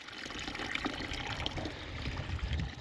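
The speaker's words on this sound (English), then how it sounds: "Water trough filling up nicely." A farm water trough on a New Zealand lifestyle block fills steadily, a continuous near splashing and trickling of water pouring in, alone with no talking.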